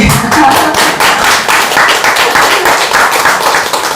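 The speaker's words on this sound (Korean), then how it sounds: "이 박수는 제가 잘해서 받는 박수가 아니니까 자축 박수신 거예요" An audience at a Buddhist dharma gathering claps in steady rhythmic unison, loud and close, the individual claps clearly distinct throughout.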